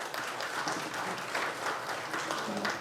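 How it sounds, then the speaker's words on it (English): Audience applause at the opening address of an IMA India leadership event, a steady, dense wash of many hands clapping that fills the whole moment without pause. "Give them a big round of applause"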